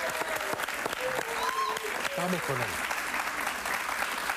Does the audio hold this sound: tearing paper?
no